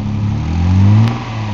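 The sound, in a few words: used car engine revving while accelerating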